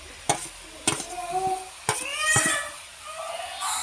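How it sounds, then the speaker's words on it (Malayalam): Thoran with cooked lentils is stirred in a pan: a few sharp spoon knocks against the metal over a soft frying hiss, with a faint voice in between. "നന്നായിട്ട് നമുക്ക് ഇനി ഇതൊന്ന് ഇളക്കി കൊടുക്കാം."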